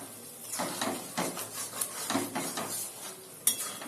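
Boiled carrots being stirred from the bottom of a pot for carrot halwa, a spoon scraping and rubbing in a quick irregular rhythm, close and quiet, with no talk.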